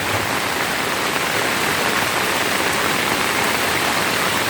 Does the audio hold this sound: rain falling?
yes